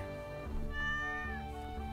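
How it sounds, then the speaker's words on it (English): A stray cat in the farming video game Stardew Valley gives a single drawn-out, plaintive meow, quiet and set over gentle background game music. "You see this cat here?"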